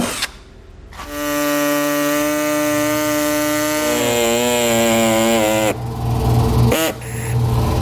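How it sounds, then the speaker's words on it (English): A power drill whines loudly and steadily at close range, its pitch wavering as it bites through a 2017 Jeep Grand Cherokee's body panel, then stops and restarts briefly. "I'm going to drill me another little hole"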